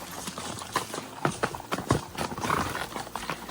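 Horse hooves clip-clop steadily on rocky ground during a trail ride near a river in Eminence, Missouri, several close, uneven beats from more than one horse, with no talking.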